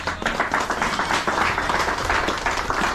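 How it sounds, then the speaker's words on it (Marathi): Audience applause for a couple at their 25th wedding anniversary celebration: dense, steady clapping from a crowd, loud and unbroken for the whole stretch with no voices over it. "आपण सर्वजण त्यांच्यासाठी जोरदार टाळ्या मारायच्या आहेत"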